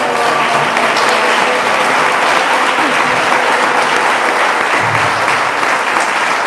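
Loud, continuous audience applause at a Mexican public forum on political representation, a dense wash of clapping sustained evenly through the whole stretch.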